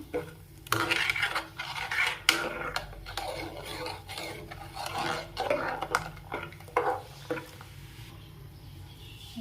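Ingredients for crab soup are mixed with rock salt in a pot, producing close, irregular clinks and scrapes of a utensil against the vessel in short bursts, with no talking.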